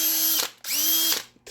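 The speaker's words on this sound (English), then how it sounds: "he got me a nice cordless screwdriver" A cordless screwdriver drives screws into RC car rims, two whirring motor runs with a rising then steady whine, close and clear, each ending in a ratcheting clutch stop, then a brief third burst.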